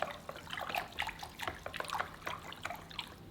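Salt and rice vinegar water sloshes and patters in a large bowl as it is whisked briskly, a quick continuous swishing up close.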